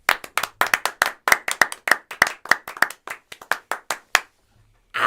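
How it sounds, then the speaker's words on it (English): A small group claps in a round of applause on a casual talk show, a quick burst of sharp, close individual claps that thins out and stops, followed by a brief pause. "Round of applause"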